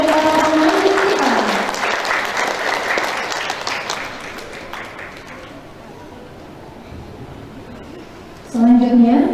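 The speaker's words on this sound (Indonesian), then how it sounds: "Sekali lagi kita iringi dengan tepuk tangan yang sangat meriah untuk para pemandu kita." Dense crowd applause for the guides at a formal ceremony, loud and sustained at first, then thinning and fading, with a voice speaking over the start and again at the end.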